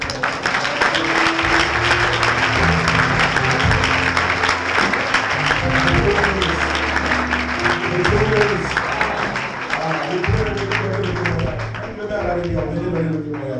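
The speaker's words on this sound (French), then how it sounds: "Est-ce que tu peux donner une forte acclamation au Seigneur?" A church congregation applauds and cheers in acclamation for the Lord, with sustained clapping mixed with raised voices and some tonal singing or music underneath.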